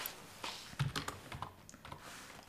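Fast, uneven clicks of typing on a computer keyboard, close and fairly quiet, with a few louder keystrokes in a short burst and no talking.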